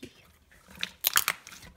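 Clear, soft slime squeezed by hand, giving a few quiet crunching crackles in a short cluster near the end after a nearly silent start.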